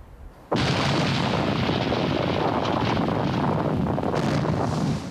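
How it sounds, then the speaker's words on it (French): Explosives blasting a mined cliff in the United States, setting off a rockfall: a sudden massive boom followed by a sustained, loud roaring rumble of falling rock and debris that continues for several seconds. "Voilà la séquence de tir, alors très spectaculaire, un peu trop même d'ailleurs, avec des projections très importantes."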